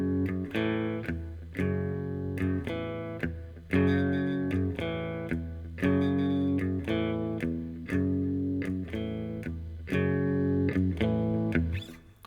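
Distorted electric guitar playing a power-chord riff, a steady rhythmic pattern of chugging chords with regular accents and bends, loud and alone.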